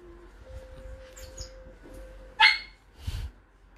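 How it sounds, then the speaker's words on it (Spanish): A small dog gives a couple of short, sharp barks in a quiet indoor room, one loud yap near the middle and another soon after, with faint background sounds and no talking. "Esa fue mi perrita, no se preocupen."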